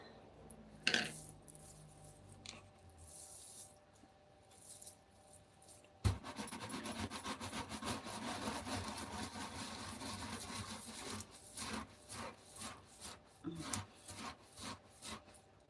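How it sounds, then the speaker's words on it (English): Roasted coffee beans are rubbed in a tea towel to strip their hulls, giving a steady, dense rustling and rattling that starts abruptly partway through and keeps going close by, thinning into short scraping bursts toward the end. "So I just polished the coffee just so it looks nice"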